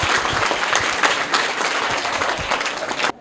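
An audience of schoolchildren breaks into loud, vigorous applause for a child who answered correctly, a thick continuous patter of many hands that cuts off sharply at the end.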